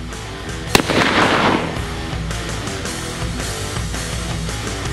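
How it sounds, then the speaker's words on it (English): A Ruger Super Redhawk .44 Magnum revolver fires once outdoors, a single sharp, loud crack followed by a rolling echo that fades over the next seconds. "I'm gonna shoot at three at the bottom one"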